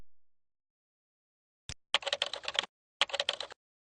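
A login ID and password are typed on a computer keyboard in two quick bursts of rapid close clicks separated by a short pause, preceded by one isolated tap, against silence.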